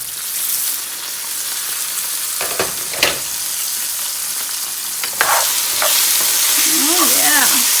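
Potatoes fry in a covered skillet with a steady, loud sizzle throughout, broken by a few sharp clinks and scrapes of a utensil against the pan.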